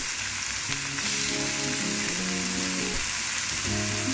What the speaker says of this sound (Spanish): Vamos a echar la espinaca. Se va. La cebolla también.